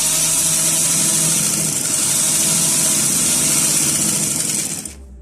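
A sewing machine stitches a seam on a plain shalwar with a loud, steady, close motor whir. It runs continuously for several seconds, then winds down and stops near the end.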